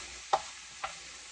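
Ragu bolognese being stirred in a pan while it cooks down, two short scraping strokes against the pan over a faint steady sizzle, with no one talking.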